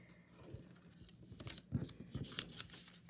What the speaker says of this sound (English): and then you tuck it under, and you keep folding in this way